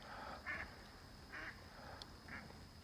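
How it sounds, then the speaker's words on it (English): Three ducks give a few soft quacks as they take off from a pond, faint and distant over a quiet outdoor background with a steady high insect-like whine. "There's 3 ducks taking off."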